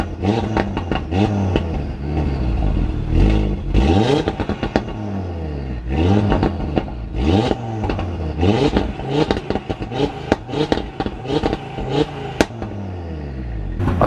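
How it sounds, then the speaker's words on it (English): An Audi RS3 with only a downpipe fitted, revved while stationary in a series of sharp, loud blips. Each rev climbs and falls quickly, with crackles in between, and no one speaks. "But let's get a couple of static rev shots."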